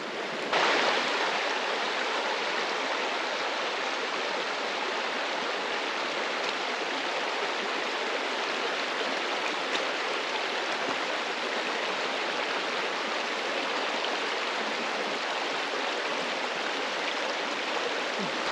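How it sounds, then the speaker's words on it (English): A wide river flowing through a remote alpine valley in the Jagungal wilderness in winter, giving a steady, dense rush of water that stays constant and close throughout, with no voices. "this river goes right through the valley. It's very wide"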